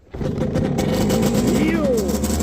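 A 1994 Yamaha YZ 125 two-stroke dirt bike engine kicks into a steady close idle on snowy ground, droning under a voice talking over it.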